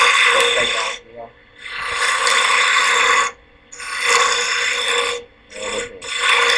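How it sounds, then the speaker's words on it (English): Wood turning on a lathe with a spindle gouge cutting a small insert and shaping the spinning piece, heard as repeated bursts of close scraping, rasping cuts separated by brief pauses. "So I'm going to do a little insert just in there like that, using a spindle gouge."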